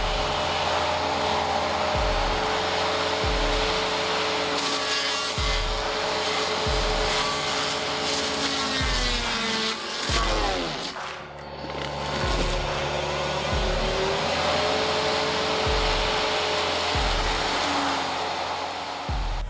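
A Turbo Saw RT2600 hydraulic tree-cutting saw mounted on an excavator whines loudly and continuously, with rhythmic low engine pulses and a sweeping change in pitch midway as the blade bites into a tree.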